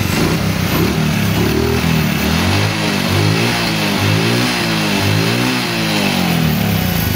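A fuel-injected motorcycle engine runs steadily and close, its pitch rising and falling in repeated revs with no one speaking.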